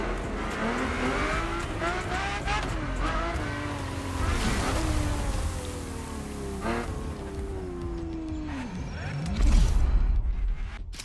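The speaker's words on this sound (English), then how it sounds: "The car you're about to drive in this opening event is none other than the first Ferrari in the supercar bloodline, the Ferrari GTO." A Ferrari GTO is driven in the racing game The Crew Motorfest, its engine revving up and down through shifting, whining gears with tire squeal, loud and steady, while a narrator speaks over it.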